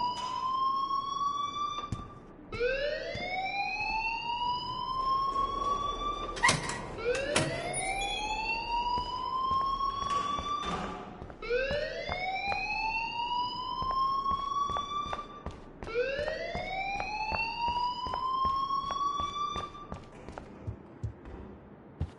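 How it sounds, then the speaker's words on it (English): A wailing school alarm in the video game Life is Strange, repeating rising sweeps that climb and hold, five cycles in a steady loud loop with sharp clicks between. "please turn off that alarm since that's your job"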